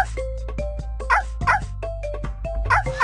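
A run of quick, high-pitched puppy yips and barks in a Dora the Explorer video game, over game music and a low drone, repeating every half second or so.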